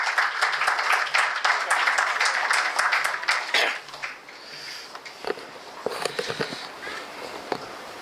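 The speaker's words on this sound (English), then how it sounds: "please give a huge round of applause" Audience applause at a stock exchange listing ceremony for Emmvee Photovoltaic Power Limited, a steady roomful of clapping that thins out midway, then returns as scattered claps with a few sniffs and faint murmurs.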